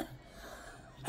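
A single short, sharp sneeze bursts out near the end after a quiet stretch of low room noise.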